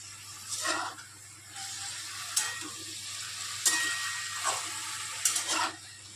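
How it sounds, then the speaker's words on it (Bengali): Turmeric and cumin powder are stirred in a frying pan while cooking a pumpkin and Malabar spinach curry. A few distinct scraping strokes come at intervals over a soft, continuous sizzle. "সব ভালো করে মিশিয়ে নাড়াচাড়া করছি।"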